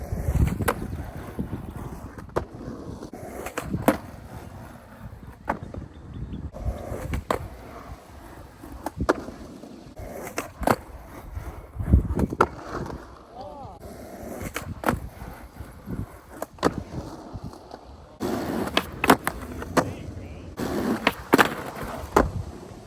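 Skateboard rolling on pavement while testing different wheel size and shape for flip tricks, with repeated sharp board pops and landings over a rumbling roll and some wind noise, close and loud.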